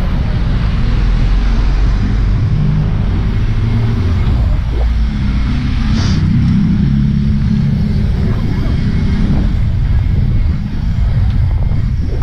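A car engine roars steadily throughout, loud and close with heavy wind buffeting, as the driver pushes it hard through a curve; excited voices shout encouragement over the engine noise.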